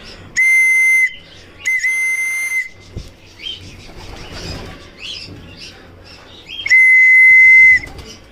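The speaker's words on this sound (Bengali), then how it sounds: "বাসি বাজানোই ভালো কারণ আয় আয় শব্দটা অনেক জোরে করা যায় না কিন্তু বাসিটা চাইলে অনেক জোরে দেওয়া যায়" A shrill whistle blown to call racing pigeons down for food, three loud sustained blasts with gaps, the last longest, with faint wing flaps and bird sounds in between.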